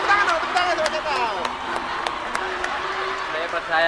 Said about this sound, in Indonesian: Tepuk tangan dong, tepuk tangan sama setan.